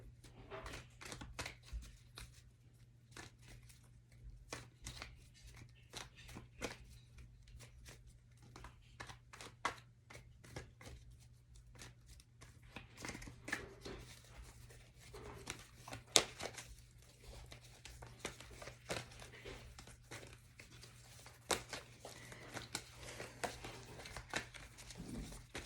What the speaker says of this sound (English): Taking a moment to make sure we just got a good shuffle